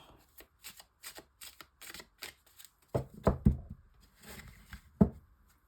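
A deck of oracle cards is shuffled for a ten-card reading, a quiet series of soft riffling and tapping bursts, close by, with brief pauses between shuffles.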